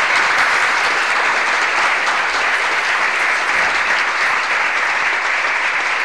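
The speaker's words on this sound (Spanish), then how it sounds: "¡Aplaudan, muchachos! ¡Aplaudan todos!" Sustained, loud, even applause that holds steady throughout and cuts off abruptly at the end, with no talking over it.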